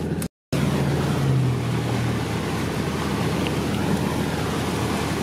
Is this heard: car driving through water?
yes